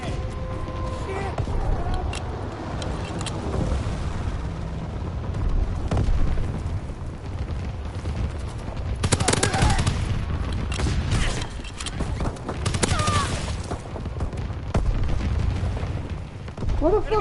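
Bombs explode and gunfire rattles in a PS4 war video game, with dense continuous rumbling booms, bursts of shots and several louder blasts, and voices talking over the din.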